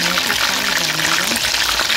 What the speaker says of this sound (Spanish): pusimos el calderito con el aceite para comenzar primeramente a freír nuestras albóndigas